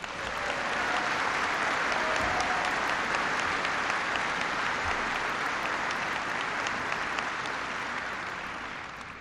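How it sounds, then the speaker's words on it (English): An audience at a speech about the end of the Iraq War bursts into steady, full applause for honored representatives. The clapping holds for about nine seconds before tapering slightly. "so give them a big round of applause."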